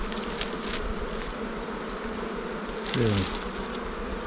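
Dense, continuous buzzing from many honey bees around an open hive, close and loud, with a brief louder swell as one bee passes near; a single short word is spoken.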